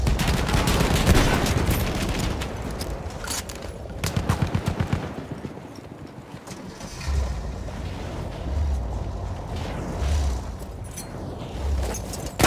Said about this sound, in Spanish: ¡Ametralladora enemiga!